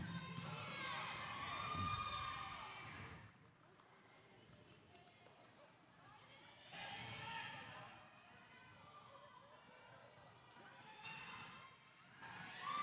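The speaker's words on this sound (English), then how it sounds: "Crowd going wild for D-Rex." Crowd cheers and children's shouts swell at a junior roller derby bout, loud at the start, fading, then rising again midway and near the end, with announcer-style talk over the noise.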